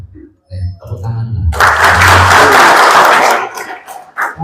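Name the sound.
applause from the audience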